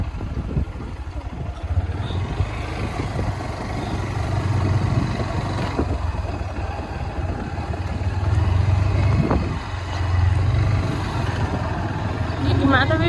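A motorbike carrying riders, including a small child seated in the middle, travels along a village road with a constant low engine drone throughout, while people chat over it.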